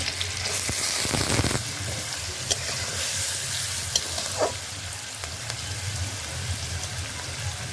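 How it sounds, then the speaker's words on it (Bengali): Carrots and beans fry in white oil in a hot wok, giving a loud, continuous sizzle with occasional stirring clicks and scrapes close by. "গাজর বিনসটা ভালো করে ভেজে নেবো"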